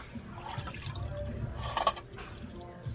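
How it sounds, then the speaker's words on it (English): Surgical instruments are rinsed under running water, with a steady splashing flow, a brief brighter burst of water midway, and faint background noise. "Just going to give them another quick rinse under water."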